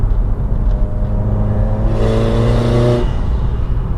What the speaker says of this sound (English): Very easy to rev match a downshift